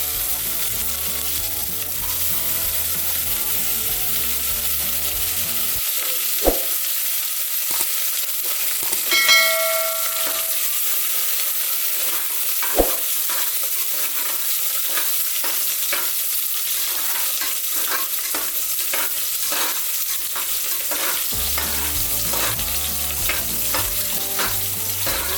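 Onions fry in a pan for a traditional Tamil avarakkai paruppu rice dish, giving a steady close sizzle with occasional stirring scrapes and a few light clinks.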